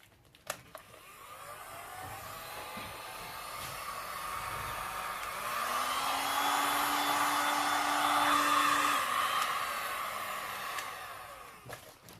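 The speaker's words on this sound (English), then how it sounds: "Now we're going to use the heat gun. Now the heat gun is going to do its thing now." A heat gun blows over poured resin for a seascape resin artwork, making a steady airy whoosh. It starts after a click, grows louder and fuller, then cuts off near the end with another click.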